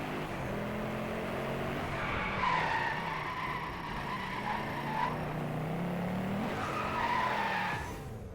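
A car drifts in the racing video game Driveclub, its tires skidding and squealing in long sustained screeches that swell and fade over a steady engine roar.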